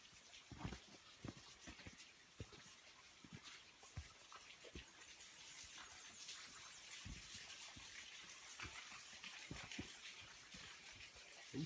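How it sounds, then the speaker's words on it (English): Faint, steady rush of running water along a hiking trail at Keown Falls, with occasional soft thumps and knocks close by. "There's plenty of water running everywhere."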